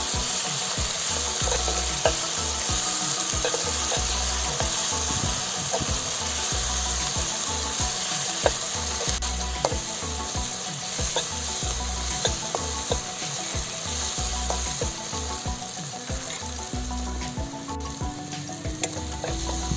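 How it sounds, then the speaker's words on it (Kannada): Ginger garlic paste sizzles steadily in a pan for a village-style drumstick gojju, a continuous loud frying hiss with occasional stirring scrapes and no voices. "ಸ್ವಲ್ಪ ಫ್ರೈ ಆಗಬೇಕು ಶುಂಠಿ ಬೆಳ್ಳುಳ್ಳಿ ಪೇಸ್ಟು"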